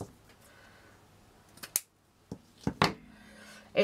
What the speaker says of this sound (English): I'm just going to cut a small piece of this.